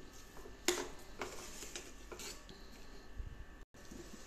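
Schezwan sauce is stirred in a pan with a spoon, giving soft scraping and a few clinks against the metal, one louder knock near the start, quiet and close.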